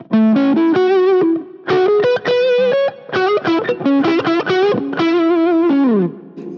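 Electric guitar notes and short phrases played alone on a Stratocaster neck pickup with volume turned down to about seven, with a somewhat dull, rounded tone and slight distortion, ending on a bending note.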